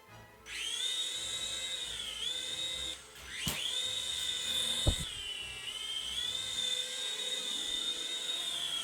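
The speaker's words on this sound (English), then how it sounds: "these are based on air hogs and other indoor flyers with, soft foam body and plastic blades" Toy RC indoor helicopter with a soft foam body and plastic blades flying nearby, a steady high-pitched motor and rotor whine that rises and dips in pitch as it maneuvers, with a couple of brief knocks partway through.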